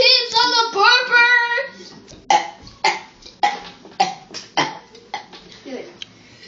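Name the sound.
loud burping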